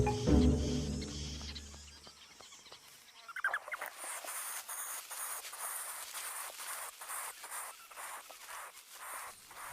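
Pygmy falcon chicks in a shared nest calling loudly for food, a rapid series of thin, high-pitched cries repeating steadily over a softer low rustle and a few clucking bird sounds at the start.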